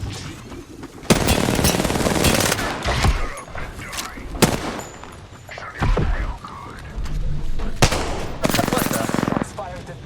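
Rapid gunfire from an Apex Legends match, with loud bursts of automatic fire and sharp single shots across the whole stretch, close and dense, with several brief pauses between volleys.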